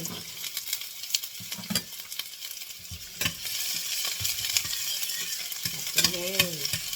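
Chopped shallots stir-fry in a little oil in a home kitchen, with a soft steady sizzle broken by scraping and clattering strokes of the spatula against the pan, close and moderately quiet.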